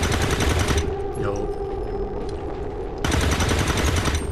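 Loud, dense automatic gunfire from a firefight in XCOM 2 rattles in two long bursts separated by a quieter gap of distant ambience.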